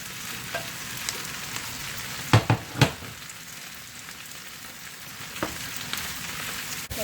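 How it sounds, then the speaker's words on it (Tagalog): Bitter gourd (ampalaya) sautéing in a small pan gives a steady, close sizzle, broken by a few sharp knocks of a utensil against the pan around the middle. "Patuloy lang natin ang paggisa ng ating ampalaya."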